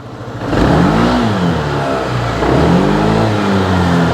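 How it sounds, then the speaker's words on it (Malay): A Keeway XDV 180 Evo scooter engine revs up loudly and close, its exhaust note rising and falling twice in a throaty drone. "Ni pula bunyi dari bahagian exhaust ataupun muffler."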